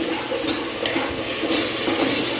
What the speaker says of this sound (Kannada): ಇವಾಗ ಹಸಿಮೆಣ್ಸಿನ್ಕಾಯಿ ಪೇಸ್ಟ್ ಮಾಡ್ಕೊಂಡಿದ್ನಲ್ವ ಅದನ್ನು ಹಾಕೋತಾ ಇದ್ದೀನಿ ಅದನ್ನು ಅಷ್ಟೇ ಒಂದು ಒನ್ ಮಿನಿಟ್ ಚೆನ್ನಾಗಿ ಫ್ರೈ ಮಾಡ್ಕೊಳ್ಳಿ